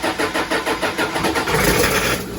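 Toyota 1PZ diesel engine cold starting, a loud rhythmic cranking chug of about ten beats that catches into a rough running rumble.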